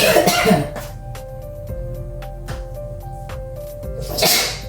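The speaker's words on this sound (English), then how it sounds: "Had to sneeze." Two bursts of a sudden, breathy sneeze-like expulsion, one at the start and one near the end, with a faint hum and quiet clicks between.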